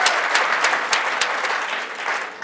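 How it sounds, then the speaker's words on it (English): Audience members at a training programme's closing ceremony clap together in a short, lively burst. Individual claps stand out sharply within the steady applause, which fades slightly toward the end. "Please can you clap for yourself?"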